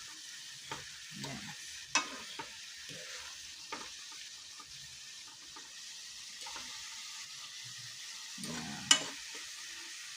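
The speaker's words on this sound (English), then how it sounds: "So we add our fish in. Then we're gonna stir." Fried fish pieces are stirred in a cooking pan over a faint sizzle, with intermittent scraping strokes and a few louder knocks of the utensil; a voice briefly speaks a word or two.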